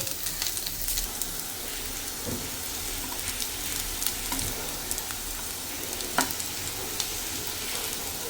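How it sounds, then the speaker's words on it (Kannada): Chilli powder and coriander powder fry in hot oil with sautéed onions for a methi leaf palya, giving a steady close sizzle with occasional stirring scrapes and no talking. "ಚಿಲ್ಲಿ ಪೌಡರ್ ಹಾಗೆ ಧನಿಯಾ ಪೌಡರ್ ಹಾಕ್ಕೊಂಡು ನಾನು ಒಂದು 2 ನಿಮಿಷ ಈ ಥರ ಹುರ್ಕೋತಾ ಇದ್ದೀನಿ"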